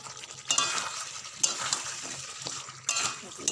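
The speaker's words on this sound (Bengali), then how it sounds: "ভালোভাবে আবারও আলুর সঙ্গে মশলাটা কষিয়ে নেব" Fried potatoes being stirred into a spice masala in a pan for Kashmiri aloo dum, soft sizzling under several loud scraping spatula strokes and clinks against the metal, near and unaccompanied by speech.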